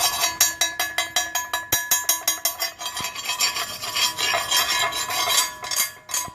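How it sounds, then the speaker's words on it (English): Slag being chipped and brushed off a fresh stick weld bead on steel, run at 66 amps, gives a fast series of sharp rasping scrapes that merge into denser, continuous scratching, close and alone. "Let's pull that slag off."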